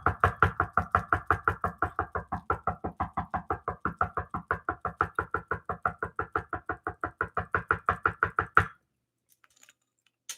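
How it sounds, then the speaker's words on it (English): Rapid, steady knocking on a door, loud and close, with dozens of evenly spaced blows over about eight seconds before stopping abruptly into near silence. "somebody probably knocked on that door like"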